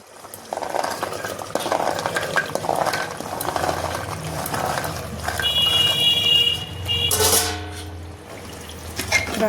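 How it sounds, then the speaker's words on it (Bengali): Soaked kidney beans are tipped into bubbling spice masala in a pot and stirred, with a steady wet sizzle and simmer, a few metallic clinks and a brief rattling pour near the end. "এখন দিয়ে দেবো রাজমাগুলো।"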